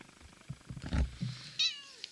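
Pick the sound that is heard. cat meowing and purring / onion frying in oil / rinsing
cat meowing and purring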